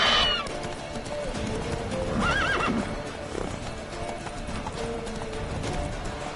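A horse gallops in The Witcher 3 video game, its hooves pounding in a steady rapid beat. A loud neigh rises in the middle, and the galloping stays near and busy throughout.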